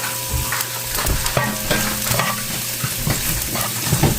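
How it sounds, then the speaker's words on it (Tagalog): Garlic fries in a pan until golden brown, with a steady close sizzle and occasional stirring scrapes and clinks, with no talking over it. "Siyempre, golden brown natin itong garlic."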